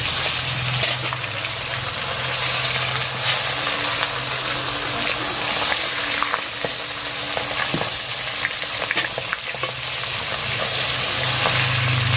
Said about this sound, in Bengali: মাছগুলো ওইদিকে ভাজা হতে থাক